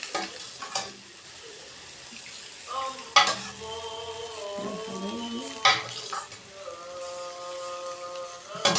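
Soup broth is poured onto boiled meat in a pot, giving a gentle sizzling, bubbling wash with a few metallic clanks of a utensil against the pot and faint tonal whistles in the background.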